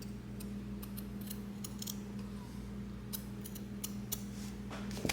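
Scissors trim the fabric for a sewn tote bag with a string of quick, crisp snips over a steady low machine hum, close and moderately quiet.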